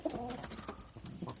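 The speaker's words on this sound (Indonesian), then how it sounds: "Teman-teman bisa lihat sendiri merpati jantannya itu bekurnya itu matukin." A male pigeon gives a single short, soft coo up close, with a faint background hiss.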